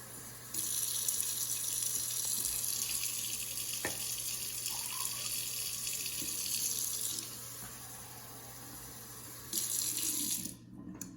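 A kitchen tap runs water into a measuring cup, a steady hiss and splash that carries on for several seconds, pauses, then briefly flows again at low volume.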